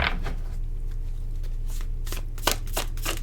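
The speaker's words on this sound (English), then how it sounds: "I am being told to pull a few cards here." Oracle cards are pulled from a deck in a few crisp papery flicks and shuffling rustles, close and fairly quiet over a low steady hum.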